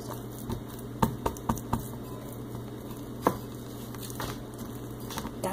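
Marshmallow playdough is kneaded in a bowl, giving soft, sticky pats and sharp little clicks and taps at an uneven rhythm, close and fairly quiet, with no one talking.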